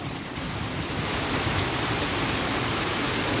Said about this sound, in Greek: κυριολεκτικά το έστρωσε με χαλάζι, το έκανε άσπρο παντού